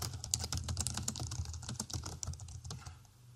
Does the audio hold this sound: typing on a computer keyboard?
yes